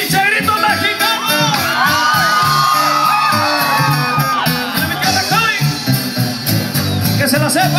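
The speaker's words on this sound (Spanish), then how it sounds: "¡Ese pinche grito mexicano!" A crowd at a live regional Mexican music performance lets out loud Mexican gritos, whooping and yelling over the band, with sustained high wavering cries and shouts continuing throughout.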